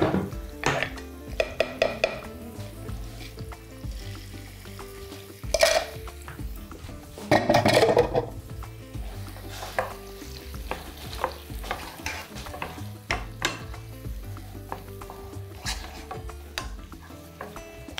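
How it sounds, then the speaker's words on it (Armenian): Steady sizzling of food frying in a pan, with a spatula repeatedly scraping and stirring against the metal, and occasional louder clanks. "Տապակվող սոխին ավելացնում ենք ընկույզ, մանր կտրատած ընկույզ, 50 գրամ։"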